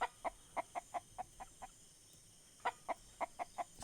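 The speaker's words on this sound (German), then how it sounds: "Alter, das Huhn." A chicken in the survival video game Mist Survival clucking in a rhythmic run of short, evenly spaced clucks, a brief pause, then another quick burst, fairly quiet and alone.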